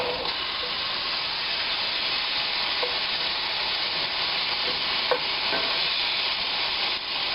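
Bass fillet pan-frying, a loud continuous close sizzle and hiss of hot oil throughout, with a few faint clinks and scrapes as the fish is flipped; no voice.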